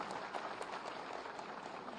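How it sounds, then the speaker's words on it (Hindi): Faint, distant audience applause at a university student award ceremony in Lucknow, a soft continuous patter of clapping at low level. "तालियों में छिपा है आपका आशीर्वाद।"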